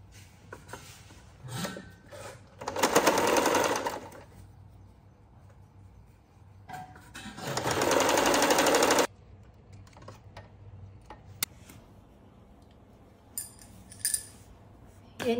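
Domestic sewing machine stitching the folded hem of a pajama, heard as two sustained whirring runs of about two seconds each, separated by quieter handling clicks and fabric rustle.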